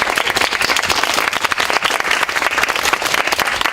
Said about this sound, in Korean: 한번 환영의 박수 쳐주시면